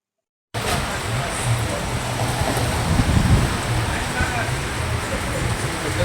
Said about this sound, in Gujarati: વરસાદનું વાવાઝોડું આવ્યું દોઢસોની સ્પીડમાં